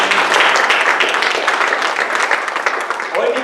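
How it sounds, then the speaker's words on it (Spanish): A church congregation applauds during a Spanish-language Christian service: loud, dense clapping with voices calling out over it, holding steady throughout. "Denle un aplauso al Señor."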